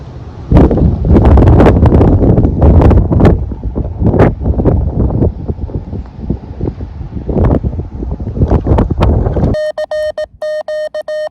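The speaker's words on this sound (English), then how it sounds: "So my mast is really battling some wind right now." Strong gusts batter a portable outdoor radio antenna mast on a summit, loud roaring wind buffets across the microphone with sharp thumps, ending in a few seconds of electronic beeping tones.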